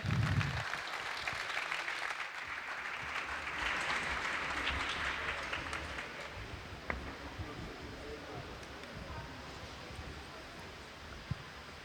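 Crowd applause at a sports panel event swells briefly and then fades into a soft, diffuse hum of a large room, with a few isolated claps later.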